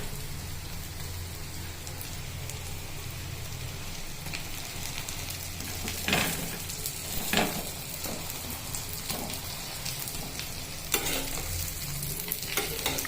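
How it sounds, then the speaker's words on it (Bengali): Egg and poppy seed fritters (posto bora) fry in a pan, making a steady soft sizzle broken by a few sharp clatters as they are flipped. "বড়া ভাজা হয়ে গেল, উল্টে দিলাম।"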